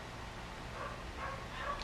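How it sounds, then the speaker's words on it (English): Puppies bark in faint, yipping bursts somewhere in the distance, standing out only slightly above a steady background hiss. "these dogs are so damn loud."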